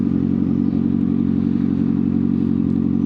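A CFMOTO 750SR-S motorcycle engine runs at close range with a loud, steady, deep throb that holds an even pitch throughout, with no talking.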